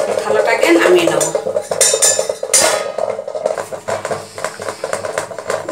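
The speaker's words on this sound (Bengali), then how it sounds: "এবার আমি থালাটাকে নামিয়ে নেব" A metal plate scrapes and clatters off a kadai after paneer has steamed under it, loud metallic clanks and rattles amid steady sizzling and kitchen noise.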